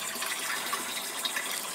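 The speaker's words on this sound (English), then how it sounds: "Hear that water going in there?" Fresh water pours steadily into a container, a continuous close splashing and gushing with no talk over it.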